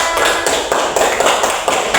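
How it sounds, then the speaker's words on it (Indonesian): Classroom applause for a student group during an Indonesian primary science lesson, a dense burst of many hands clapping steadily for about two seconds, loud and close with no talking. "Tepuk tangan untuk kelompok mawar."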